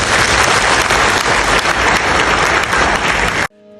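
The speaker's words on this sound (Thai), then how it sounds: "ขออนุญาตปรบมือให้กับท่านท่านรองสุเทพด้วยครับ" A packed audience claps steadily and loudly at a retirement lecture for a senior official, the dense applause continuing evenly before stopping sharply.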